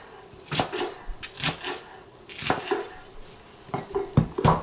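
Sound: knife slicing green onion diagonally on board

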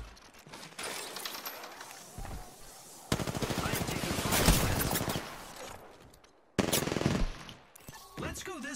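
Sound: gunfire in a video game

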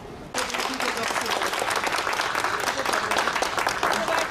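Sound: applause

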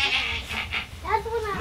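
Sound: sheep bleating

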